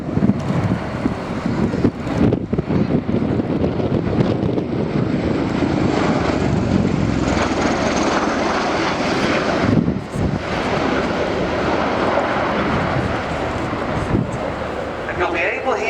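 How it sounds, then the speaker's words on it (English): A Bell Boeing CV-22 Osprey tiltrotor flies past at an airshow, its rotors shifting from airplane toward helicopter mode: a loud, steady propeller and engine roar with buffeting wind noise on the microphone throughout. "you'll be able here to see those rotors transitioning as the aircraft goes from conventional into helicopter mode"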